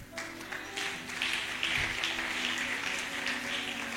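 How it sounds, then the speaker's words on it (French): Church congregation applauding and cheering after a sermon, a broad wash of clapping and voices held at a steady, moderate level throughout. "Ce sont des acclamations qu'on donne à un tel message"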